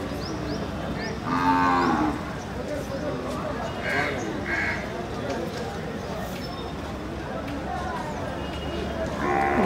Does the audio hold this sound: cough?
no